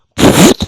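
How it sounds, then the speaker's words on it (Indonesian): Comic fart sound effect in an Indonesian audio drama, one loud, close, buzzing blast with a short second puff right after, heard on its own. "Si nenek jatuhkan diri menciumi kaki patung sambil terkentut-kentut."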